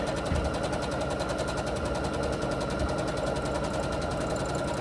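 A sewing machine runs continuously with a fast, even mechanical chatter while free motion quilting stitches fabric, close and steady with no voices.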